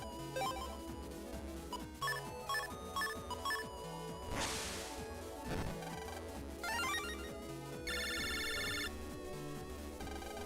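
Phone call ringtone in a Mega Man Battle Network video game, a bright electronic trilling ring near the end over busy game music with whooshing effects.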